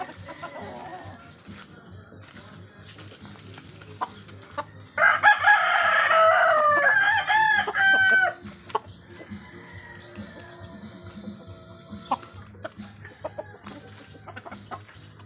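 Chickens cluck nearby while a rooster crows loudly for a few seconds in the middle, then softer clucking and scattered farmyard noises continue.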